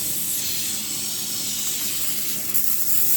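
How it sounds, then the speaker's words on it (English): An almost empty can of vegetable oil sprays in a continuous hissing burst lasting a few seconds, close and fairly loud, with a slight change in the spray near the end and no talk. "I don't use a lot of vegetable oil, but I'm just gonna spray this good."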